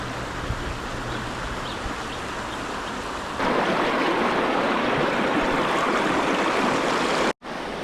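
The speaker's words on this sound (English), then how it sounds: "Then we laid by the creek for a while and just enjoyed the flowing Yarra." The Yarra River creek at Warburton flows with a steady close-up rushing babble, growing louder partway through, with a brief cut near the end.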